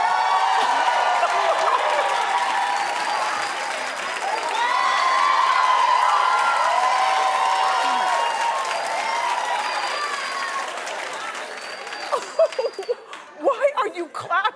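A television talk show studio audience claps and cheers steadily for about twelve seconds, with whoops and scattered voices mixed in, before the clapping thins into separate claps and laughter near the end.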